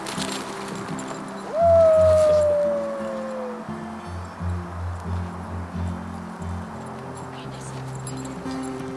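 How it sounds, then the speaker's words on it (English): Herding dogs at play give a rising, drawn-out yipping whine that trails off, followed by softer vocal sounds, with people talking in the background. "Can you tell they're herding dogs?"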